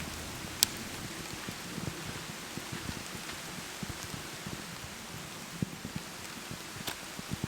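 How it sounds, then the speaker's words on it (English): Steady rain patters in a Southern California woodland, falling on tree trunks, with scattered louder drips landing nearby against a soft constant hiss. "With the rain falling on the trunks"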